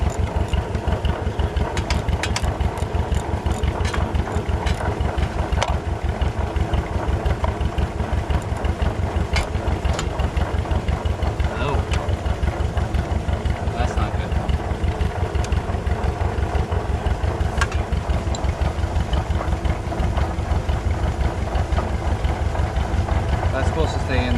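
An old farm engine runs steadily up close with a loud, even mechanical chug throughout, while people talk over it.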